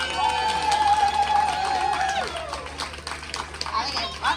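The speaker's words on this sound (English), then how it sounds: "A round of applause for the grumpalump." A crowd claps and cheers loudly, with a voice speaking over the noise and scattered shouts rising near the end.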